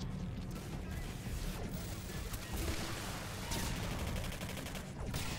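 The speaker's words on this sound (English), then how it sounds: "I think I'm shooting through this." Gunfire in the sci-fi shooter Singularity comes as a dense, continuous volley of sharp shots and crashing impacts throughout, fairly loud and rattling.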